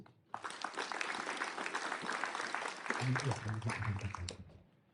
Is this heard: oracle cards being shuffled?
no